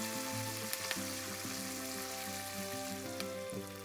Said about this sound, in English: fry the ginger for about 2 minutes on low flame. Add some mint leaves and some curry leaves.